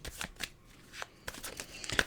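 Tarot cards shuffled by hand make a quick run of soft riffling flicks and slaps, close and fairly quiet, in short bursts with brief pauses between.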